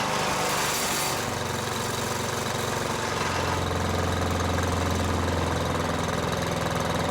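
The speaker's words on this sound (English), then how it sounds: "throttle the engine down, disengage the rotor, and let the engine run out of gas." A chipper shredder's small engine idling steadily and loudly up close, with a continuous rumbling drone and slight shift in pitch early on.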